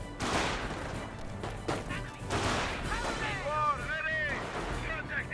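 Scattered gunfire and heavy artillery blasts from a Company of Heroes battle between Panzer Elite and US forces, repeated bursts and booms at mid distance, steady and fairly loud, with a voice talking over them.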